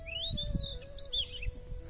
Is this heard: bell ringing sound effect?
no